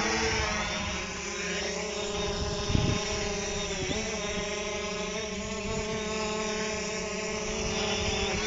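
A Hubsan Zino H117s 4K UHD drone flies at full power, giving a steady, close multi-tone propeller whine with a brief thump partway through and no speech.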